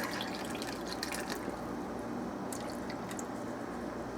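Liquid poured over a rubbed pork roast in a crock pot, a steady close trickle and splash running continuously without pause, no talking.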